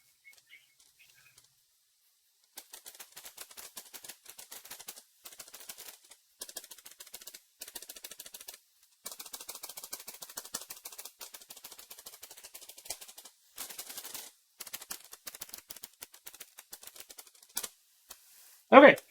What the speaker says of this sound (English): So right now, I'll do a quick typing test so you guys know what this sounds like.